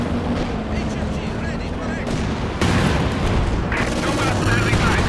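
A Cruiser Barrage artillery strike in Company of Heroes 2 pounds a Grenadier squad, with heavy booms and crackling impacts piling up over continuous battlefield din while a commentator talks over it.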